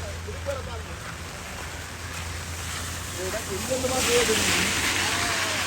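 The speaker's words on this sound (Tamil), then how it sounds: "மழை நல்லா வலுத்து வாங்கி கொண்டு இருக்கிறது" Heavy rain pours down in flooded Jaffna town, a dense steady hiss that swells louder near the end, with a voice talking over it.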